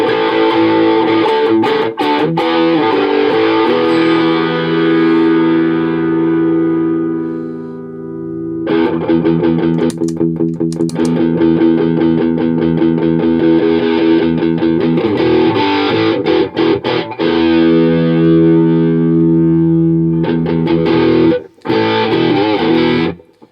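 Electric guitar through an MCE Battlehammer distortion pedal on its silicon clipping setting plays chugging chords and sustained notes, loud and saturated, with brief gaps between phrases.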